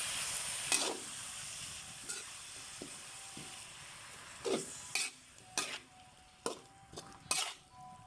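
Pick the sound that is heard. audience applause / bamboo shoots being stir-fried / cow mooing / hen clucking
bamboo shoots being stir-fried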